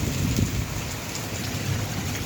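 Rain pours down steadily in a village, a dense, even hiss of drops on surfaces at close range, unbroken throughout.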